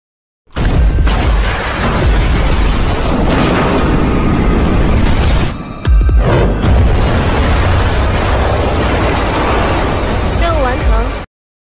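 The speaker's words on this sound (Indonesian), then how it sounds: "Terjadilah ledakan dahsyat di lautan dan tubuh Raja Naga lebur menjadi debu." A huge explosion at sea in an animated fantasy tale, where a dragon king is blasted to dust, roars as a loud, sustained blast with a brief dip midway. A narrating voice runs over it.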